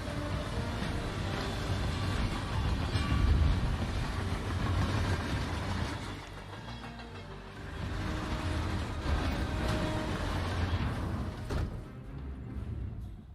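A moving train in the video game Hitman 3: steady loud rumbling and clattering, continuous throughout with slight swells, and no speech over it.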